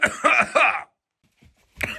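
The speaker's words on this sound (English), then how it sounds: "He was just sneezing and coughing" Three loud, close coughing bursts in quick succession from a man inside a smoky off-grid log cabin, followed by a short quiet gap and then one more harsh cough.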